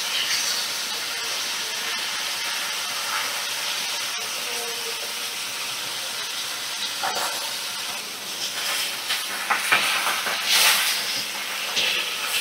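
Pomfret fish fry in a pan after being turned, a continuous loud hiss with scattered crackles and pops growing busier toward the end, with no talk.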